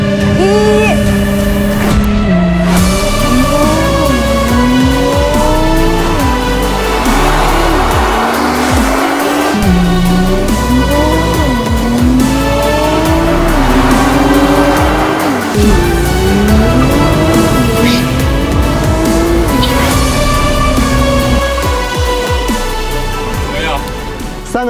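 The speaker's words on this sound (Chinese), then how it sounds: "属于我人生的第一次弹射，现在开始。" A Nissan GT-R on 2019 tires weathered for two years makes a launch-control start: a loud, close engine roar climbs steeply in pitch, drops at each gear change, and repeats through several rising sweeps of hard acceleration.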